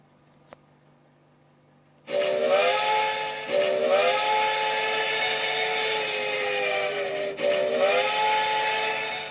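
A steam locomotive whistle of a mountain-type engine in the Trainz train simulator: loud, steady blasts that start abruptly after quiet, with two brief dips that restart the tone, sounding close and alone.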